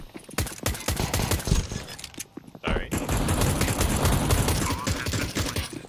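Rapid automatic gunfire from a Counter-Strike 2 match, with dense bursts of shots at first, a brief gap, then sustained loud firing for several seconds.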